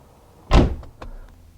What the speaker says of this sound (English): On each door, on the panel, you can just click that and it opens it up.